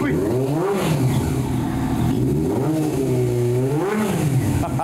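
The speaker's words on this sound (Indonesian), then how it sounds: "Kita penasaran sama suaranya nih. Motor CB400." A Honda CB400 motorcycle engine revs up and down three times, each rise and fall smooth and throaty, close by over a steady idle.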